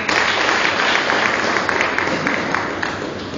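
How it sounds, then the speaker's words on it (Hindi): An audience at a stage event applauds, a dense, loud wash of clapping that carries steadily from start to finish. Faint talk is heard underneath. "उनके लिए तालियां"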